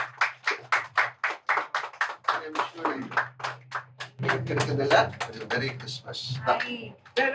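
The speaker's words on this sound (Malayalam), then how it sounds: "സോ ഓഡിയൻസ് നല്ലൊരു കയ്യടി കൊടുക്കാം" At a film success celebration, an audience claps in a steady, rhythmic unison beat while an announcer speaks over it, and a looser burst of applause swells midway before the clapping thins out.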